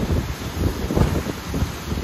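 Wind gusting across the rocky coast at Cala Ratjada, Mallorca, on a sunny day with high waves, buffeting the microphone in a steady, low, rumbling roar with small surges throughout and no voices.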